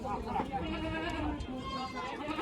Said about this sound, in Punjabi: ਉਹ ਜਵਾਨ ਬੱਕਰੀ ਆ